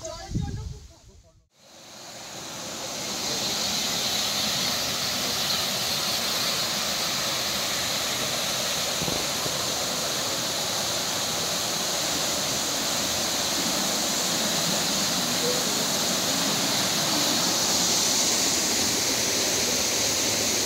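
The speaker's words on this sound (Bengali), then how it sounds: "This is the largest in volume and the most beautiful waterfall in Garden of Cave" Broad, steady roar of a large, high-volume waterfall in the Garden of Caves at Cherrapunji, Meghalaya, heard up close and continuous after a short muffled start.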